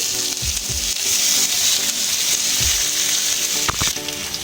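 Boiled potato and pea mixture with ginger and green chilli frying in hot oil in a wok, giving a steady close sizzle with a few soft stirring scrapes and clinks throughout.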